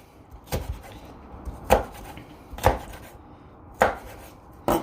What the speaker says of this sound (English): Cut it into slices. And then cut it into small pieces.